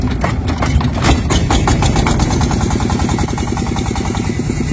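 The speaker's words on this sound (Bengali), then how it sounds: "সেই জায়গা পর্যন্ত আমাদের ট্রলারটিকে এগিয়ে নিচ্ছি" A trawler boat's engine runs steadily on the Brahmaputra river, a loud, continuous, throbbing mid-to-low drone with rapid regular pulsing, close by and alone throughout.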